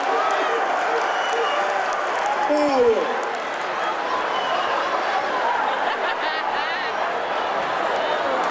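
Audience clapping at a comedy show, a dense steady wash of hands clapping under loud crowd noise, with voices and scattered laughter mixed in throughout.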